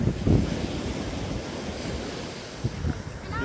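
Ocean surf rolls onto a beach at Riu Palace in Playacar on the Yucatan coast of Mexico, a steady close wash of waves mixed with rumbling wind noise on the microphone.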